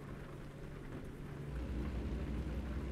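Heavy rain pours steadily in a nighttime storm in American Truck Simulator, a dense close hiss with a deep rumbling swell rising partway through.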